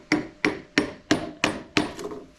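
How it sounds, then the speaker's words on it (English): A hammer strikes the axle of a 79Bike Falcon GT six times in an even rhythm, each blow a sharp metallic clank that rings briefly, heard close up with no talk. "Hammer."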